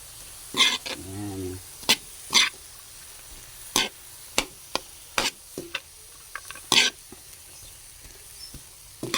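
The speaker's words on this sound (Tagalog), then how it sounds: "Kamatis at saka sibuyas. Bahagya lang natin igisa yan" Tomatoes and onions sautéed lightly in a pan, with intermittent sharp stirring scrapes and soft sizzling between them, while a person talks over the cooking.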